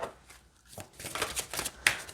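A deck of oracle cards is shuffled by hand in a quick series of riffling, papery bursts, close and clear, ending in a sharper snap.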